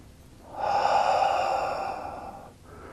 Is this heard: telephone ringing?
no